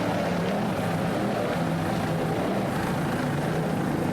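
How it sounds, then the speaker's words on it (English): A Super V class racing powerboat engine roars steadily at speed during a Daytona race, a loud, dense, continuous drone with slight throttle swells and no pauses. "Nice throttling there by Matt Rice."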